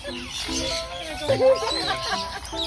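Chickens clucking nearby at a farm attraction in Sto. Tomas, Batangas, a run of short throaty clucks and chatter with other fowl mixed in, under faint background voices.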